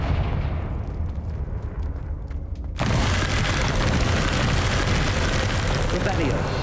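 A Confringo explosive spell goes off in Hogwarts Legacy: a quieter stretch with faint ticking gives way to a sudden loud blast, followed by a sustained roaring rumble to the end.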